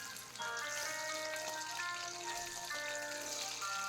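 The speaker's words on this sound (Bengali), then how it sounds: "তারপরে তেলের মধ্যে ব্রাউন করে ভেজে নিচ্ছি খুব বেশি তেলে ভাজি না" Pieces brown in a small amount of oil, giving a continuous, even sizzle with fine crackling. It stays close and steady for a few seconds with no voices.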